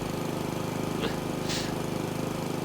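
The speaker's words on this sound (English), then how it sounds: "I heard the lawnmower and instantly got it." A lawn mower in a video game drones steadily and evenly throughout, a continuous close engine hum with a faint brief chirp over it.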